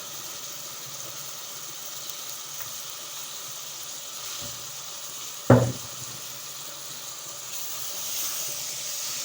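Tomatoes dropped into a hot frying pan for a mixed vegetable aloo or chicken salan: a steady, soft sizzling hiss runs throughout, broken by one brief clank midway.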